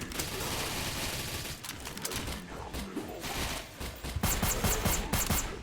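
Gunfire crackles in Death Scourges, dense rapid bursts of shots rattling through a forest setting, pausing briefly before a fresh volley of sharp, loud reports.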